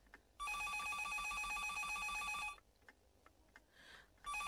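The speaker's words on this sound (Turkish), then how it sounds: "Telefon çalıyor" A telephone rings in a home with a bright, electronic trill in two bursts, the first long and the second starting at the end, loud and close over a quiet room.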